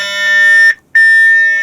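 An AIS distress alarm on a sailing boat gives a loud, piercing electronic tone that stops briefly and then starts again, sounding close and alone with no voices.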